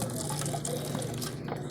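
A little water being run into a detergent bottle cap to rinse out residue, a soft steady liquid trickle close by over faint background hum.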